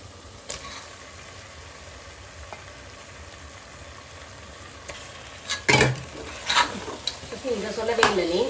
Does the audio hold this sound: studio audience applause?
no